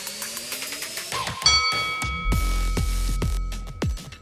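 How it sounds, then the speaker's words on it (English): A boxing-style opening bell for a round rings out in a series of sharp metallic dings, repeated rapidly with ringing overtones, loud and alone. "That's the opening bell."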